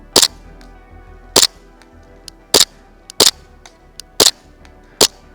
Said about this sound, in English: Let's see how far I can really shoot.